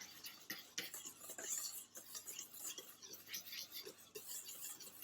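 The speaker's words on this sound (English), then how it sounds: "I'm just going to take my whisk and just whisk these together just to mix all that stuff in there" A whisk stirs dry buttermilk biscuit ingredients together in a bowl, giving a faint, steady scraping and ticking of metal wires against the bowl, with no talking.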